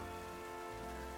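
Steady rain pattering on surfaces in the Pokémon Legends Z-A video game, a continuous dense wash with no voices over it.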